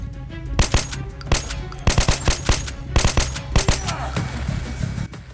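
Rapid bursts of automatic gunfire crack out in a Metro 2033 Redux gunfight, clustered volleys of sharp, loud shots repeating over several seconds against a low rumbling backdrop.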